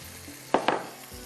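Besan stirred and roasting with spiced minced meat keema in a hot pan, a steady soft sizzle with two brief louder scraping stirs midway, close and without talk.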